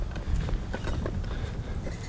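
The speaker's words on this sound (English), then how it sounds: "I think it's way too windy to shoot a head-to-head." Strong wind at an outdoor shooting range rushes and buffets the microphone in a steady, low, gusty roar that lasts the whole moment, with no voices.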